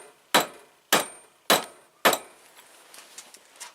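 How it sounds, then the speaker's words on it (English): Four sharp, evenly spaced taps of a dead blow hammer on metal, each ringing briefly, followed by faint clinks and handling noise. "This dead blow I got, it's got a hammer side and a rubber side."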